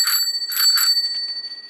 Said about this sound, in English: whereas a ratchet bell,